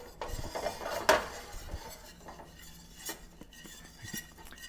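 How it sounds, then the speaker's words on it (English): Flour is stirred into melted butter in a pan to make a roux, with soft scraping and one sharp clink of a utensil against the pot early on, then quiet intermittent stirring, close up and low in level. "we're making a roux now"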